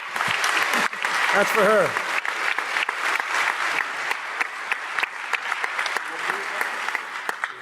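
A crowd claps steadily through a DEF CON closing ceremony, a loud, dense wash of applause with a voice speaking over it near the start.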